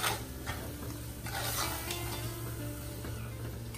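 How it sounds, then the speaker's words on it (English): A mixture of melted palm jaggery and tomato sauce is stirred in a hot pan, giving a soft, steady scraping and faint sizzle that runs continuously at low level, with no voices. "Mix everything till well combined."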